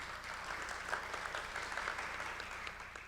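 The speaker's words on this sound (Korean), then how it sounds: "박수 부탁드립니다." Audience applause at a smart construction panel discussion in a conference hall, steady dense clapping that fills the whole stretch at an even level, with no one speaking over it.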